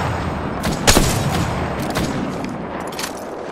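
Gunfire in the Apex Legends battle royale game: a dense, continuous fusillade of shots with sharp louder bursts near the one- and two-second marks, booming over constant background rumble with no talking.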